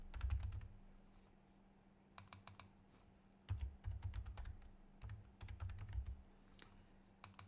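Computer keyboard typing at a quiet desk, several short bursts of rapid key clicks separated by pauses, close and clear with a faint steady hum behind.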